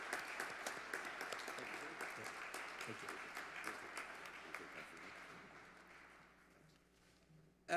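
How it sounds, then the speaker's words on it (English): Applause from the audience at a Chamber of Commerce business awards ceremony, with dense clapping that gradually thins and fades before a sudden sound at the very end. "So can we please have a round of applause for Barry and all his hard work."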